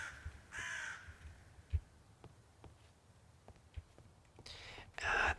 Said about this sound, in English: Wow, the crows are loud.